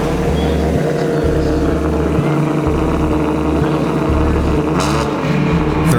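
Travis Pastrana's race car sits at the start line of a hill climb, its engine revving in a repeated pulsing rhythm, loud and steady throughout.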